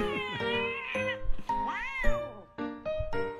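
A cat in the Ragnarok Online game meows repeatedly and loudly, giving about six drawn-out, rising and falling cries in quick succession, close and clear with no talking.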